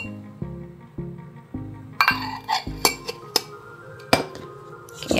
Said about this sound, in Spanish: vamos a mezclar el aceite